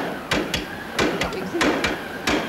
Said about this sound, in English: It's no good hammering